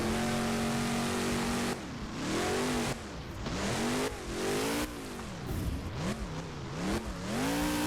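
A monster truck engine in BeamNG Drive roars during a donut in a stadium freestyle run, rising and falling in loud, repeated revving sweeps that continue without a break.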